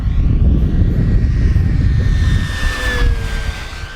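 An FMS V8 P-51 Red Tail radio-controlled warbird streaks low and fast down a runway, its whining electric motor and propeller swelling close then sweeping past with a falling pitch over a windy rumble.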